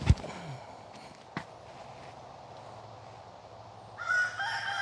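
A rooster's crow breaks out near the end, loud and clear over quiet outdoor ambience on a disc golf course, with an earlier short thump and light rustling before it.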